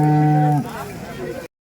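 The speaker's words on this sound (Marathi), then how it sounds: "जर्सी गाय 100 आली आहे" A cow at a village cattle market in Nalegaon, Latur, gives one loud, close moo with a steady low tone that breaks off after about half a second, followed by a noisy market murmur that stops abruptly.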